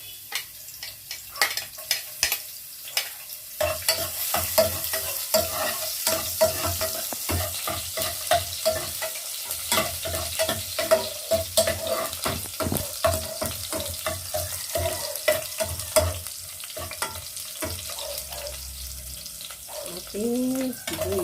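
Garlic frying in cooking oil, a close, continuous sizzle broken by rapid, rhythmic scraping and tapping of a spatula against the pan throughout.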